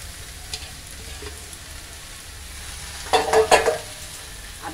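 Soybean chunks coated in turmeric and salt are tipped into a pan where jackfruit and potato are frying. A soft, steady sizzle swells into a louder burst of crackling as they land, with no talking.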